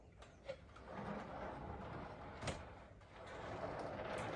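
A door on a vintage 1960s pachinko machine closes with soft clicks and a couple of brief knocks near 0.5 and 2.5 seconds over quiet mechanical rattling, close and faint.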